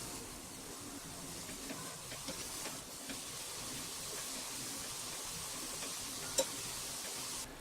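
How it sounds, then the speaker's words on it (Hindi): Noodles fry in hot oil until they turn light golden brown, giving off a continuous broad sizzling hiss that stays fairly even and close, with one small sharp pop near the end. "नूडल्स हमारे फ्राई हो चुके हैं"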